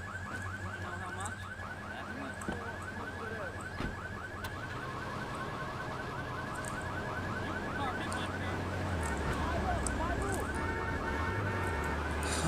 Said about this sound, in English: So gently touch it, activate the alarm.